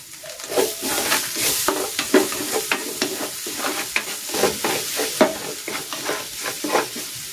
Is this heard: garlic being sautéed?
yes